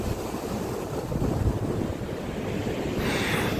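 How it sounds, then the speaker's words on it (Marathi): Sea waves surging and breaking on Vengurla beach in Sindhudurg, Konkan coast, a steady broadband roar with wind buffeting the microphone, the wash rising slightly toward the end. "एवढ्या लाटा आत्तापर्यंत मी बघितलेल्या नाहीत. एवढा हा आवाज जे आहे पाण्याचा"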